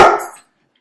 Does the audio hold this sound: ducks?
no